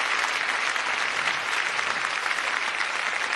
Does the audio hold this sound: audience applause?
yes